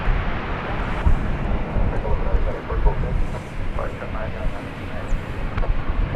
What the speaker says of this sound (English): And there's Flight 2335 arriving from Albuquerque, New Mexico, 737-800.